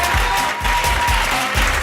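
An audience at a rooftop poetry event applauds a poet, a dense, continuous burst of clapping from a crowd that stays loud and steady throughout.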